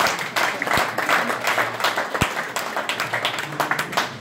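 Applause from an audience at a political meeting, a crowd clapping in a lively burst with a few sharp, loud individual claps standing out near the front, then thinning into looser, uneven clapping.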